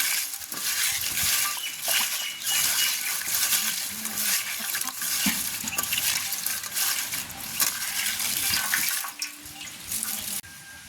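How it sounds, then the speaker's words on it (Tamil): Leaves are washed by hand in water in a village setting, with continuous sloshing, splashing and dripping close by and no voices. "முதல் கழுவுவோம் மேலே கழுவி எடுப்போம் நல்ல வடிவாக கழுவுவோம்"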